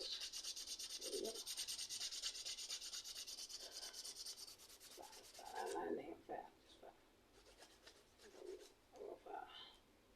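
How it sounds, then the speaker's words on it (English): A nail file rasps against fingernails in steady rubbing strokes, close and fairly quiet, during a weak-nail repair with acrylic strengthener; a few faint voice bursts sit under the scraping. "Keep on filing."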